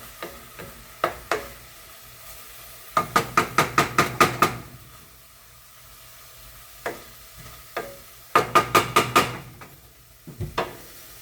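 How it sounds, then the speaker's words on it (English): Green peppers fried in a pan for pastaliya get stirred, with a spoon clicking and knocking against the pan in quick bursts of rapid strokes separated by quieter frying and pauses, and no talking. "I just gotta stir them up a little bit more"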